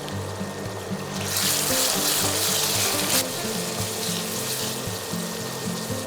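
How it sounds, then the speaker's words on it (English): Ginger, garlic and onion masala sizzles steadily in a pan, a continuous loud hiss and crackle with a brief extra burst of sharp spitting partway through, no voices. "Fry the masala till the raw smell of ginger, garlic and onion are gone."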